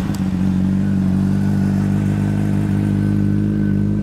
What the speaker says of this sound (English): we're just gonna like let her idle for a second, or for a little while